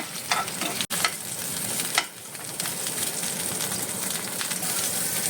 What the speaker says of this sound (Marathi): हो रफली चॉप केला तो भाजून घेता मातशें तळसून घेता.